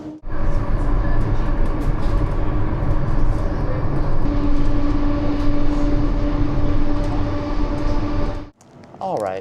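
A Class 230 train interior running on battery power, with a steady low rumble and hum, voices talking over it, then the noise drops off near the end.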